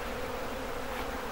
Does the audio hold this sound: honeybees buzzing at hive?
yes